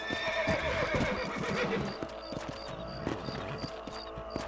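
In the video game Red Dead Redemption, a horse whinnies loudly up close, then hooves clip-clop in an uneven rhythm alongside small chimes and ambient game sounds.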